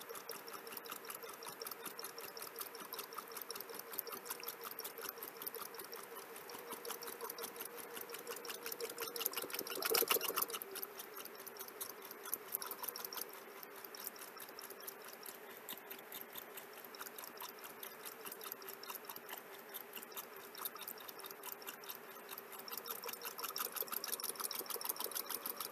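Heavy rain pours down in a steady, continuous hiss, moderately faint and distant, with a brief louder swell midway and no talking.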